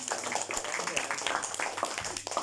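Students applauding in a secondary-school classroom, a short burst of dense, close clapping lasting a couple of seconds.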